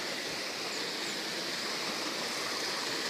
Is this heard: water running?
yes